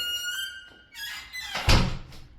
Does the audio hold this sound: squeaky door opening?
yes